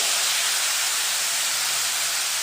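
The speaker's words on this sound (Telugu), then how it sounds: "ఇప్పుడు షుగర్ సిరప్ యాడ్ చేసుకోవాలండి కొద్ది కొద్దిగా వేసుకుంటూ కలుపుకోవాలి" Sugar syrup poured into hot fried semolina for rava kesari hisses loudly and steadily, a dense continuous sizzle of steam that fills the whole stretch with no talking.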